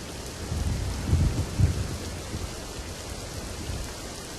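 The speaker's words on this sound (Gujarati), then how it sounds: "તો સુરત જિલ્લામાં અવિરત ધોધમાર વરસાદ છે" Heavy monsoon rain pours steadily in Surat district, a dense hiss, as low thunder rumbles swell twice early on and then fade into distant grumbles under the downpour.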